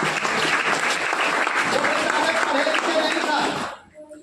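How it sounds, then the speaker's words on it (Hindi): Loud, dense applause from an audience at a gathering carries on without a break for a few seconds, then cuts off sharply near the end, leaving a faint trace of a voice. "उनके लिए एक जोरदार तालियां"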